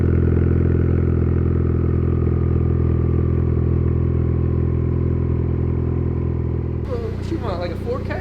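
Ford Focus ST fitted with a Tomei exhaust idles steadily with a deep, even engine rumble throughout, and a voice talks over it near the end.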